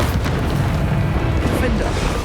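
Bombarda blasting spell explosions in the Hogwarts Legacy video game make a dense, continuous low rumble with bursts layered over battle noise, loud and close, with a voice faintly present.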